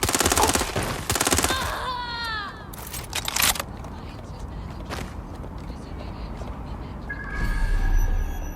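Rapid automatic gunshots from Watch Dogs come in two short bursts at the start, then single sharp shots, with other game effects and a rising rumble toward the end.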